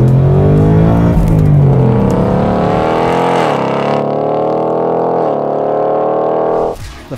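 A 2021 Ford Mustang Mach 1 V8 that revs out to 7,500 RPM, heard as a loud, close engine rev held and swelling over about seven seconds with repeated rises in pitch, then cutting off sharply, with no talk.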